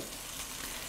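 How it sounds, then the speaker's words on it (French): Onions sizzle and crackle as they brown in a pan, a dense, close frying hiss filling a short moment. "Donc là, les oignons commencent à dorer"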